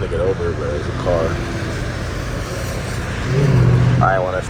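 A Dodge Durango Trackhawk engine rumbles low in wet, rainy traffic, with a louder growling swell near the end, while someone talks over it throughout.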